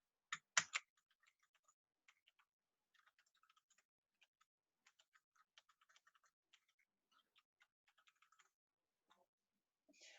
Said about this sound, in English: I'm typing in null